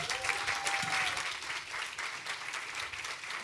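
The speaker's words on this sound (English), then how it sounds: "Please give them a round of applause." Audience applause at a conference on stage inclusion, a dense, steady wash of clapping from a crowd, moderately loud and sustained, with a brief whistle-like tone near the start.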